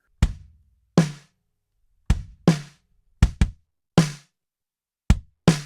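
A snare drum processed with compression, a gate and a top-end boost cracks eight times in an uneven groove, each hit short and tightly cut off, alone with no voices.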